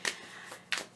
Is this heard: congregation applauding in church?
no